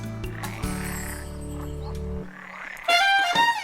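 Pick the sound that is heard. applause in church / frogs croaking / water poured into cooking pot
frogs croaking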